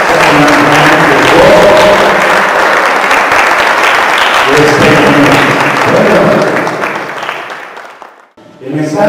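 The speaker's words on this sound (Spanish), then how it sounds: "Levanten el aplauso." Church congregation applauding during a service, a loud sustained wash of clapping with voices and a faint musical tone underneath, fading out near the end before a brief return.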